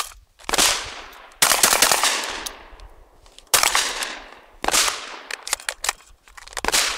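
Franchi SPAS-15 shotgun fire, loud close shots in an irregular series of about six or seven blasts, each trailing off in a long reverberant decay, with no speech.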